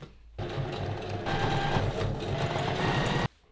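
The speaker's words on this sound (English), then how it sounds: "I forget how slow that 3 stitch straight stitch is." A sewing machine runs steadily on a slow three-step straight stitch along a trouser hem, a close, continuous whirring buzz that starts abruptly, holds for about three seconds with no talk, then cuts off.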